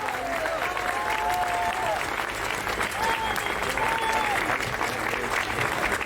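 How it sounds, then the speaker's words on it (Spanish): An audience applauds at an event with dense, continuous clapping that stays even in loudness from start to finish, with faint tonal sounds rising over it. "Por eso les pido un aplauso"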